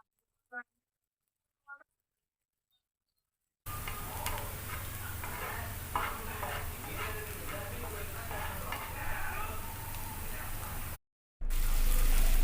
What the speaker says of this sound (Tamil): இப்போ நம்ம வந்து எண்ணெய் ஊற்றி அந்த ஊற வச்சதை வந்து போட்டாச்சு